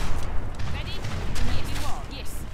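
Cannon fire rumbles through a busy Age of Empires 3 naval battle near galleons, a dense wash of booming shots and battle noise that runs the whole time beneath a talking voice.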